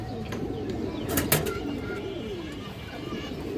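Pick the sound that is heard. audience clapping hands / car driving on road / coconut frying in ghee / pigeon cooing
pigeon cooing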